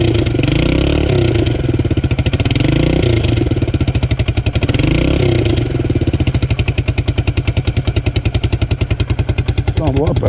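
A motorcycle engine, just freed of a rag blocking its air intake, runs loud and close with a steady, throbbing rumble that smooths and quickens into a faster idle toward the end.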